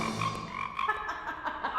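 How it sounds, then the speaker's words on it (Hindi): A frog croaks in a steady run of raspy, rhythmic calls, close and fairly loud, with no voices over it. "मेंढक।"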